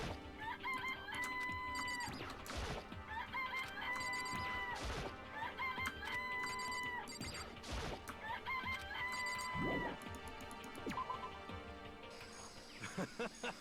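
Chickens cluck and a rooster crows in the video game Danganronpa Trigger Happy Havoc, a looping pattern of clucks and crowing with insect-like chirps underneath, continuous and moderately loud.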